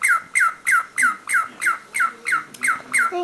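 A pet cockatiel squawks about ten times in a steady, evenly spaced series of sharp, loud, close calls with no other sound.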